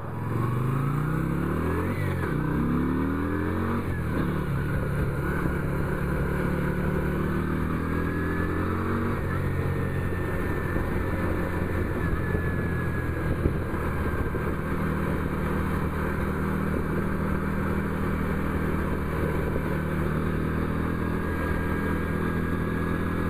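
A motorcycle engine rumbles steadily with a deep, throaty tone, revving up near the start and then holding a loud, continuous drone close by.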